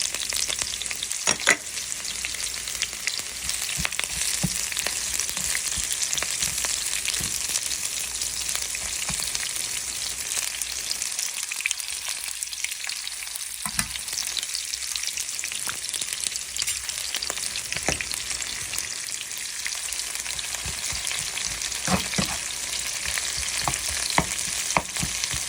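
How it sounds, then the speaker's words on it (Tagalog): Onion frying in a pan beside a pork chop, a steady loud sizzle with occasional crackles and stirring scrapes running throughout, no voices. "Fry natin ang ating onion."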